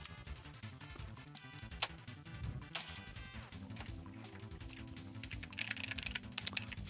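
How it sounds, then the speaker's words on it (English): Typing on an old clicky DOS keyboard with Cherry Blue switches, a fast run of sharp, crisp key clicks and clacks, close and alone with no talk. "Some really old clicky keyboard. It's kind of sounds amazing."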